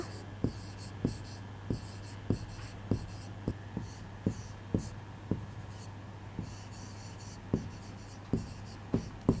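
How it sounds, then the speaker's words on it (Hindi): Chalk tapping and scraping on a classroom board during a history lesson, a steady series of sharp, regular taps and short strokes roughly every half second over a low constant hum, fairly close and with no voice over it. "तो लिख लीजिए बसवन्ना,"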